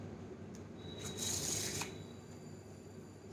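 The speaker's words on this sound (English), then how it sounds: "for this card trick, you just need one shuffled pack of cards." A pack of playing cards is shuffled close by, giving one brief, quiet burst of riffling card noise in an otherwise silent room.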